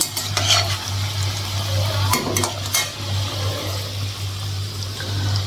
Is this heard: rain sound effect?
no